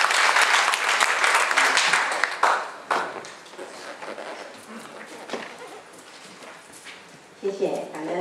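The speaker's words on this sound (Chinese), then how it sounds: "掌声掌声" Audience applause for a speaker at a gathering of a wellness association, a dense burst of clapping that fades after a few seconds, with a brief renewed flurry near the end.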